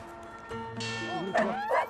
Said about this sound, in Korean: 짖었는데 잘한 거예요?